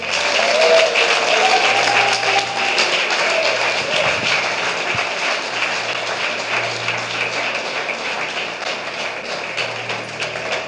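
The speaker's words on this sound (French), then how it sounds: "Une offrande d'acclamation à Jésus." A church congregation breaks into sustained applause and cheering acclamation, a dense, loud wash of clapping and voices that fades slightly over ten seconds.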